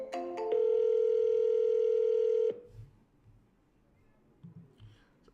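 A phone call being placed while setting up a voice AI agent: a short burst of dialing tones, then a steady electronic ringback tone holding for about two seconds before it cuts off, leaving a quiet room with faint low thumps.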